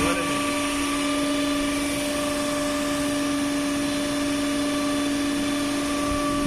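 A DC motor coupled to a DC generator runs in a lab test set with the DC field supply switched on, giving a steady, loud electrical hum with tonal whine that holds unchanged throughout.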